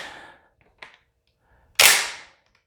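A Benelli M4 Tactical 12-gauge semi-auto shotgun's trigger breaks on dry fire with a single crisp, close metallic click. Two faint small clicks come before it in near silence.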